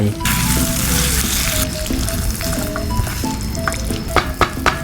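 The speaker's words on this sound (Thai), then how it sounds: "ใส่ปลากระป๋อง ผัดให้เข้ากัน" Canned fish with fish sauce, sugar and seasoning powder stir-fried with holy basil in a pan. A loud, steady sizzle runs throughout, and a few sharp scrapes and clinks of a spatula come near the end.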